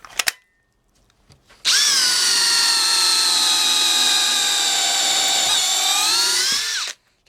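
A DeWalt cordless drill on a 2Ah battery whines at full speed for about five seconds of steady, loud, close high-pitched running, after a few brief clicks and short bursts.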